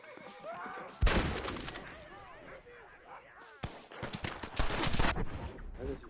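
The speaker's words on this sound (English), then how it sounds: "who's that shooting me?" Gunshots crack and echo in Red Dead Redemption on PS5, a sharp loud burst followed by further shots amid background game noise, with a player talking over them.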